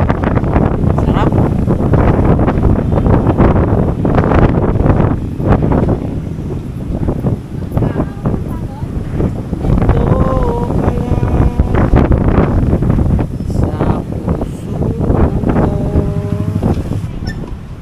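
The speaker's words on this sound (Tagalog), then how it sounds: "Isang hangin. Sarap." Strong outdoor wind buffets the microphone in a loud, continuous rumble with gusty swells, while a voice speaks intermittently beneath it during stormy weather.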